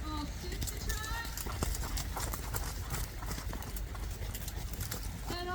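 Horses trot in a riding arena at a horse show, their hooves clip-clopping in a quick, even rhythm at moderate distance while an instructor's voice calls over them.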